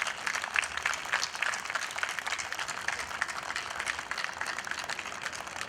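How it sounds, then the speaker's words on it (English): Sustained round of applause from an audience honouring faculty members at a college global meet, dense steady clapping at moderate distance throughout, no talk. "Please give them a big round of applause"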